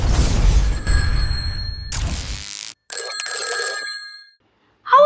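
A telephone rings in loud, bright bursts with pauses between them, followed by a short electronic tone.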